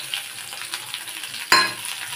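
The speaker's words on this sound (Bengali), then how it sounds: "আবার একটু ঘি দিলাম, 1/2 চামচ মতো ঘি দিলাম, দিয়ে ফোড়নটা দিয়ে দেবো।" Tempering spices dropped into hot ghee for Durga Puja shukto, a steady soft crackle and fizz that suddenly flares into a loud, bright sizzle burst near the end.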